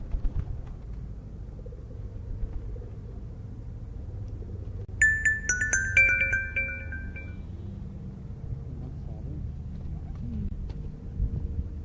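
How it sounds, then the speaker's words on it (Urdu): Breeder pigeons on a rooftop loft in Lahore give a brief burst of bright calls and cooing in the middle, over a steady low rumble of background noise. "یہ ان کے بریڈر ماشاء اللہ زبردست کبوتر ہے جی"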